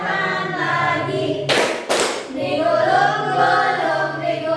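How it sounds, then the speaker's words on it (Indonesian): Hands clap twice in quick succession during a primary school maths class activity song, sharp close claps cutting through continuous singing and voices that run steadily before and after them. "tepuk tangan lagi."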